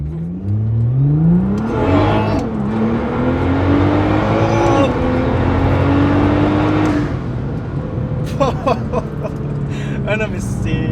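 A 550 hp Nissan GT-R launches hard from a standing start, its engine note climbing through rising revs with gear changes around two and five seconds, loud and close from inside the car, before easing off into lighter mechanical noise.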